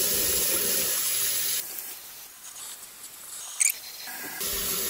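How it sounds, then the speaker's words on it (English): Hot water running from a kitchen tap into a sink just cleared of a clog, a steady hiss that drops away midway and then resumes, with a brief clatter near the end. "I'm gonna run hot water now"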